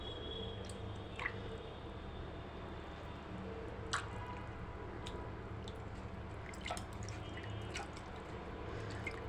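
Taro curry coming to a boil in a pot, with a soft steady bubbling simmer and occasional small pops and drips, close and alone.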